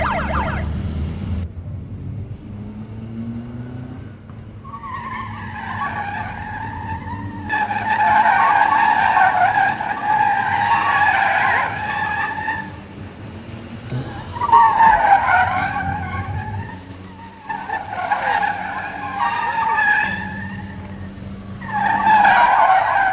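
Race cars in a gymkhana competition between Taiwanese and Korean teams, tyres squealing in long repeated skids with engine revving between them, loud and close, no talk.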